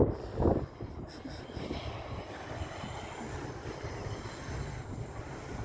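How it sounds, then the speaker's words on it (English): A train heads into Rochester station as a distant, low rumble of wheels on rails, steady and faint throughout, with a brief louder thump near the start. "There's a train going into Rochester station."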